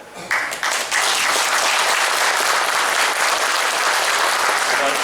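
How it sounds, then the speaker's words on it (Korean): Loud, sustained applause from an audience welcoming guests at a formal Korean civic gathering. Clapping swells within the first second into a thick, even roar that holds steadily for five seconds. "큰 박수로 좀 환영들을 해주시기 바랍니다"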